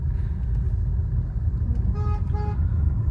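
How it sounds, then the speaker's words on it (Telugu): A car horn honks twice in quick succession during a driving lesson, loud and close, over the steady rumble of the car's engine. "హారన్ చేయండి ఈ పర్సన్కు"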